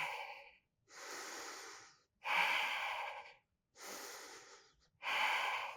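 Steady, audible breathing while holding a yoga pose, five breathy hissing inhales and exhales in an even rhythm with short pauses between, close and fairly soft.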